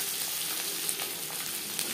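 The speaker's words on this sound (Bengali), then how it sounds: "মাছ ভাজা হয়ে গেছে, একটা পাত্রে উঠিয়ে নেব।" Small mourola fish fry in hot oil, giving a steady, fairly quiet crackling sizzle with no talk.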